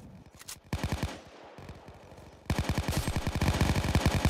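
Rapid automatic gunfire in a multiplayer video game, bursts of rattling shots that start sparse and then run as a fast continuous volley, loud and close with no talk over it.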